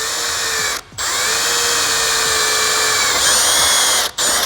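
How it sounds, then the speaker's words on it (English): A power drill with an extra-long 1/8 inch bit whines loudly as it bores a hole in a front splitter endplate on an MK5 Toyota Supra, stopping briefly twice and then starting up again, close by. "So I'm gonna drill this hole."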